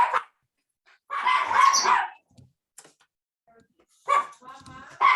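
A dog barks in the background, a short run of loud yelping barks in the middle with further brief barks near the end, mixed with a person talking nearby.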